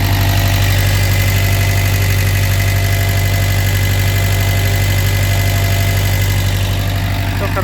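A Mitsubishi MXR35 mini excavator's engine running at a steady idle, a loud, close, even diesel rumble with a constant low hum and slight rhythmic vibration throughout, with no talking.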